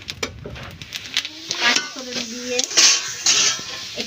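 Metal ladle clattering and scraping against a pan of panch phoron spices in oil as it is set over as a cover, a few clear clinks and knocks over soft background sizzle.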